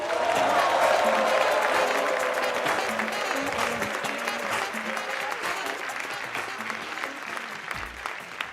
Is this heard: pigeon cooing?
no